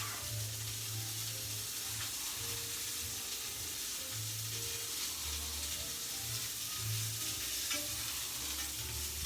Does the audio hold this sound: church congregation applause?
no